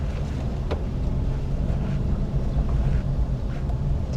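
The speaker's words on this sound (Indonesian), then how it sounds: "Suara ban kan, kita tutup lagi." Steady low rumble of tire and road noise inside a Suzuki XL7 hybrid cabin while driving, continuous and fairly loud in the low end with faint wind hiss, no voices.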